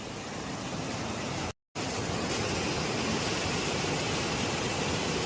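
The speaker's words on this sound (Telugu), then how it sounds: "అయ్యా వాటర్ ఫాల్ చూడండి" Devarapalli waterfall near Vizag flows in full, its dense, steady broadband rush of falling water filling the air, broken only by one brief dropout of near silence.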